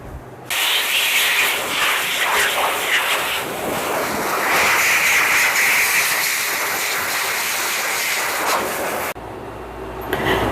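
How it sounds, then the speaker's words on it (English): A hair dryer blows a steady, breathy hiss while a thin-coated Shih Tzu is dried during grooming, running continuously for about nine seconds before cutting off. "I'm going to finish blow drying her now."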